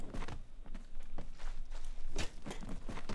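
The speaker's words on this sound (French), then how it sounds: "J'entends des bruits de pas chelous un peu partout." Footsteps in Conan Exiles sound as a run of close, uneven thuds and scuffs in a courtyard, several quick steps in a row with no voices over them.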